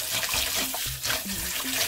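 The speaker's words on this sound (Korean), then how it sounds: "이걸 이제 물에 씻어야 되겠어요" Salted seaweed stems are rinsed in water at a kitchen sink, producing a steady close splashing and trickling with a few clunks of handling.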